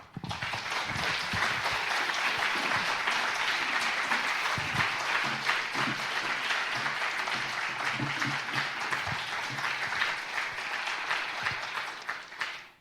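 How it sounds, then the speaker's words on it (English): An audience at a literary conversation event gives a big, sustained round of applause, dense and even for about twelve seconds before fading out, with no talking over it. "please join me in welcoming with a big round of applause, Mary Calvi."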